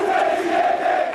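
An emotional crowd chants in unison outside a cathedral as a coffin is carried out at Silvio Berlusconi's funeral, a sustained, loud massed-voice chant with no gaps.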